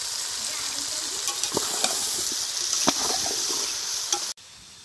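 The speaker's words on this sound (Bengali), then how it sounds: "না, সবজিটা একটু ভাজা হোক হালকা।" Fresh garden vegetables fry for khichuri in a pan, a loud steady sizzle with occasional stirring scrapes and crackles running throughout, then cutting off abruptly near the end.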